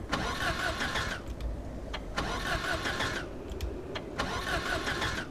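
A small Mini car in Project Zomboid cranks over repeatedly, three or four loud grinding starter bursts with short pauses between, close and alone without voices.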